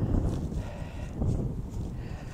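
Cattle low on a farm while feeding on cow feed, steady livestock mooing close by with continuous rumbling low calls and no talk.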